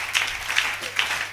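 Church congregation applauding together after a sermon, a short burst of steady broadband clapping with a few louder swells, moderately loud and close, no talk over it.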